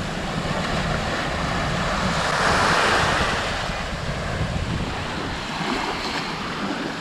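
Sea waves rolling onto the shore at Sarti, Greece: a continuous loud surf wash with a swelling crest midway, mixed with some wind rumble against the microphone.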